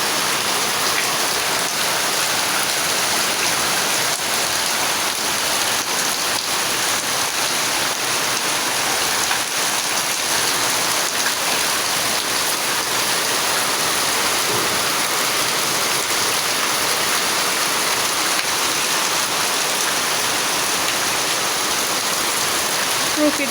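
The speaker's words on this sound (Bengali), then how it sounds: "বছরের প্রথম বৃষ্টি।" Steady rain falls in the first rain of the year, a dense unbroken hiss of drops that holds at an even, fairly loud level throughout, with no voices.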